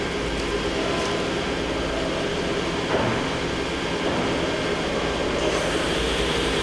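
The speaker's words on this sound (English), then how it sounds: "Start by running the spindle. It's 1500 RPM." A FANUC Tape Drill Mate (Drillmate Model T) spindle runs at 1500 RPM, giving a steady, loud, continuous mechanical whir and rumble that holds even throughout with no talking.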